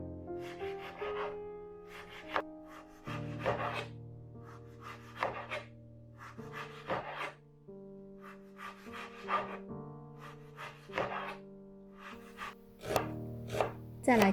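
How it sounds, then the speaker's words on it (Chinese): A knife slicing beef across the grain on a cutting board, a quick irregular run of short scraping cuts and knocks against the board, moderately close, with a faint tonal background and no talk. "把牛肉逆着牛肉身上的纹路切成片"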